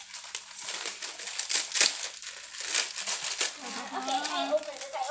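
An Indomie instant noodle packet is torn open with close, loud plastic crinkling and crackling that swells and fades in bursts, while a person talks briefly toward the end.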